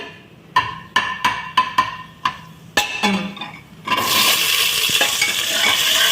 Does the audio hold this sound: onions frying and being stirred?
yes